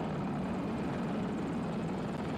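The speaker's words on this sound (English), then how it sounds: "That's a jet coming in" A jet aircraft in Battlefield 2042 roars in as a dense, steady rumble with broad whooshing noise, loud and continuous throughout.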